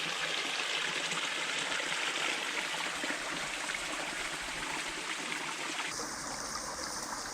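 Stream water pours steadily over a waterfall on Guam, a continuous broadband rush that stays loud and even throughout, shifting slightly in tone near the end with no voices.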